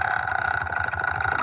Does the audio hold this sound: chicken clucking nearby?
no